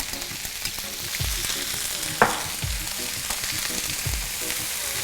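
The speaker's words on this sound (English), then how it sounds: "And you hear that nice sizzle." Onions, bell peppers and carrot sizzle steadily in a hot pot for Escovitch sauce, a close, continuous hiss broken by a few scrapes and stirs.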